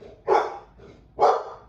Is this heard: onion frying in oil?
no